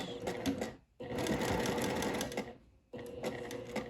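Sewing machine stitching around a marked box on a French seam side pocket, two bursts of rapid mechanical whirring separated by brief pauses, close and clear.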